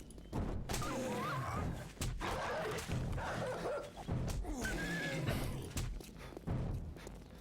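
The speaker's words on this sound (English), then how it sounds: "whoa, no, there's a dog." Dog attacking in the survival video game 7 Days to Die, with repeated loud barks and yips near the player amid thuds and game noise, while someone talks excitedly over much of it.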